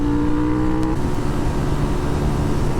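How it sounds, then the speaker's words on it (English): A small Volkswagen diesel car drives steadily on a rough road in a driving video game, a loud continuous engine drone and road rumble with no speech over it. "Little fucking Volkswagen. Must be a diesel."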